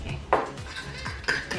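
Wasabi is stirred into a bowl with a utensil, giving a couple of light clinks and scrapes against the dish, close and quiet with no voices.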